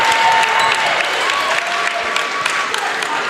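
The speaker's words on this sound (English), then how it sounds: "That'll give the Wizards fans a little something to cheer about." Home fans cheer and clap in a gym at a girls' high school basketball game, a steady, loud wash of applause and crowd noise with brief whistle-like tones, unbroken throughout.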